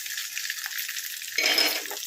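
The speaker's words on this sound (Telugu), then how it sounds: "ఎండుమిర్చి వేగుతున్నాయి" Dried red chillies and garlic frying in hot oil in a pan for tomato dal, a steady close sizzle that swells briefly with a stirring scrape partway through; no one speaks.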